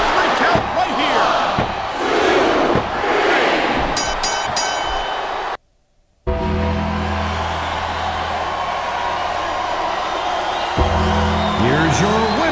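A capacity arena crowd roars through a wrestling match in the WWE SmackDown vs. Raw 2007 video game, a dense continuous cheer broken by a brief silent gap, with commentators talking over it.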